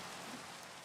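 Steady rain hisses continuously in the video game Minecraft, a soft, even wash of falling drops with no talking.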